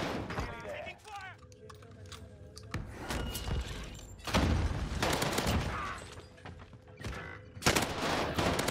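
Gunfire in the video game Rebirth Island, with bursts of shots and sharp impacts scattered through the stretch, some loud and close, mixed with game effects and voices talking.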